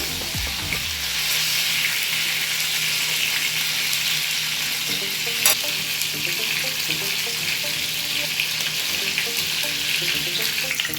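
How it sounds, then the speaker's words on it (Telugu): Chicken pieces frying in a pan, a loud, dense, continuous sizzle and crackle held close throughout, with a brief clatter near the start and no talking. "కాబట్టి ఇవి 2 పక్కల తిప్పేసి ఫ్రై అయితే చేస్తున్నాను"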